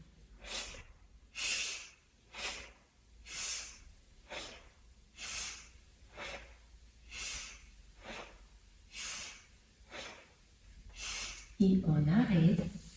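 Steady breathing in and out during a full-body warm-up exercise, about a dozen rhythmic breath bursts, close and clear, with a brief voiced sound at the end.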